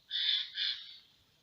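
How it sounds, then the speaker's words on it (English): Two harsh crow alarm caws in quick succession, fairly faint and distant, then quiet. "Them crows are making a right noise over that way."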